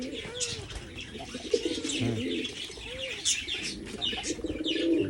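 Pigeons coo repeatedly in a village home on a rainy day, soft rolling calls recurring throughout over steady background noise, with occasional chirps and a brief wing flutter.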